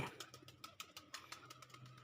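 Domestic pigeons at a nesting spot where pairs are laying eggs give soft, low coos in a steady rhythm, with faint bird chirps and rustling nearby.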